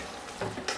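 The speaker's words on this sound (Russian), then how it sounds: "И это все тоже с мукой обжариваю." Soft sizzling of chicken gizzards dusted with flour frying in a pan, with a couple of brief stirring scrapes near the end.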